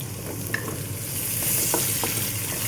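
Onions sizzling steadily in a hot frying pan while monggo is being cooked, a continuous close crackle with faint stirring clicks and kitchen exhaust fan noise underneath, no voices.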